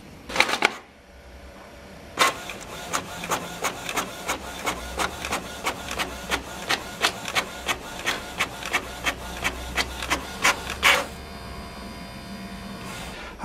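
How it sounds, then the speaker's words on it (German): A Canon Maxify MB2350 4-in-1 printer copies a document, giving a close, rhythmic series of about twenty mechanical clunks over a steady motor hum, with louder thumps at the start and end of the run. "Ich habe jetzt hier mal eine Druckvorlage und will die jetzt kopieren."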